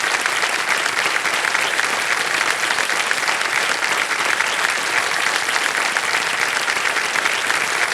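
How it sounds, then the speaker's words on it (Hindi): A studio audience on a televised quiz show applauds, dense steady clapping from a large crowd held at an even level throughout with no break. "तालियां बज जाए इनके लिए एक बार"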